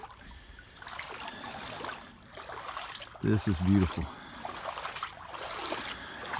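Cold, clear stream water trickling along the Perdido River, a soft, continuous babble and splash heard close by beneath people talking.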